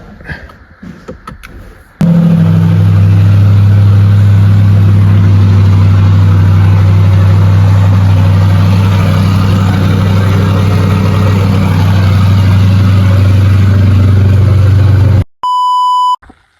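After a few short clicks, a C8 Corvette V8 bursts into life with a loud, deep roar, holding a steady rumble before cutting off, followed by a brief electronic beep.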